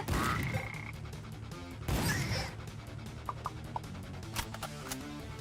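Frogs in the game AK-xolotl croak loudly, with a crashing hit and sharp shot-like blips over busy game sounds, with no talk.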